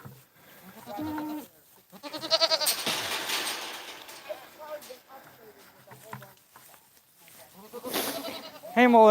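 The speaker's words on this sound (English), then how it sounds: "Hello, goat." A goat bleats several times, wavering calls close by and fairly loud with gaps between them, while a person talks over parts of the sequence.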